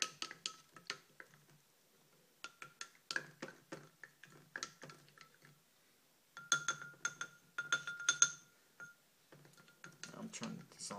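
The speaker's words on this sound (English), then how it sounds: "So just stir till everything is dissolved." A solution of aspirin in hydrochloric acid is stirred in a glass beaker during a salicylic acid synthesis, giving faint, irregular clinks and ticks of the stirrer tapping the glass in scattered clusters.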